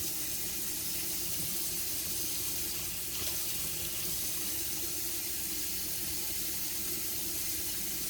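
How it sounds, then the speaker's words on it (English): A tap on a reverse osmosis system with a booster pump runs continuously, giving a steady, fairly soft hiss of water pouring into a sink with no voices over it. "once the water's coming out about like this, then you can close the faucet"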